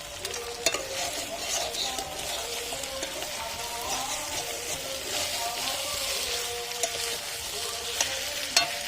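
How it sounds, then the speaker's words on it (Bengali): Meat, cooked for a peas-and-meat curry, sizzles steadily in a hot pan as it is stirred, a dense continuous frying hiss with occasional scraping clicks, close and alone. "মাংসটা কিন্তু ভালো করে কষানো হয়ে গিয়েছে আমার"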